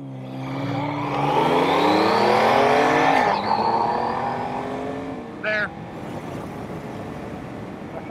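A Honda CB900F and a BMW K75 accelerate hard side by side in a roadside race, loud engines climbing in pitch through a gear change before easing off, with a brief sharp burst near the end.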